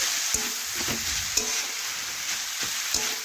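Spices and cabbage for a vegetarian cabbage khichuri are stirred in a sizzling pan, a steady fry hiss with a few sharp spatula scrapes and knocks, no voices.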